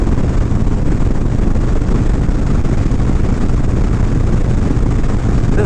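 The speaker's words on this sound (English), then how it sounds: "And it's getting a little windy too." Steady wind roar buffets the microphone while riding along a busy highway on a breezy day, a constant loud rumble with no pauses and no other distinct sounds.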